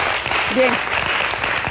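Brief applause in a cooking show studio, steady clapping under a single spoken word.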